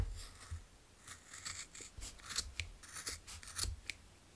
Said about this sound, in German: Jetzt können wir hier diese beiden Schlaufen mit unserer Schere durchschneiden.